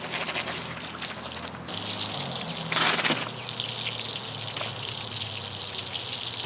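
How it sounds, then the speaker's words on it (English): Water rushes steadily out of the exit valve of a pressurized pipe, a continuous hissing gush with a brief louder surge near the middle, close and alone. "See the water coming out?"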